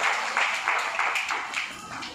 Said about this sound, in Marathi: नितीन कदम साहेबांनी दिल्याबद्दल, त्याबद्दल मी जोरदार टाळ्या वाजवून त्यांचं या ठिकाणी मी स्वागत करतो.